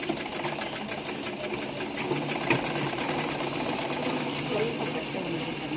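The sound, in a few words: sewing machine stitching a vegetable bag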